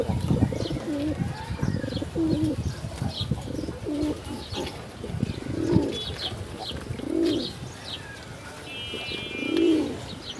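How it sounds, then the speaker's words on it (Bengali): A male silver Gola pigeon coos close by in repeated deep, rolling phrases, with small chirps and other farm birds in the background. "আমরা এখানে এক পিস সিঙ্গেল গররা নর দেখতেছি, আর এটা হচ্ছে সিলভার কালার গররা। দেখেন এই যে ডাক"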